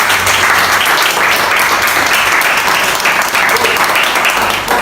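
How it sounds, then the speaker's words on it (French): Loud, dense audience applause fills the room without a break during a live product presentation and demonstration of a sanitary pad. "Est-ce qu'on peut acclamer pour ça?"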